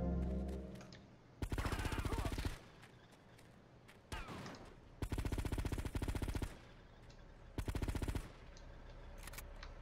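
Automatic gunfire in GTA Vice City, with loud, sustained bursts of rapid shots repeating several times over roughly ten seconds and shorter gaps of game noise between them.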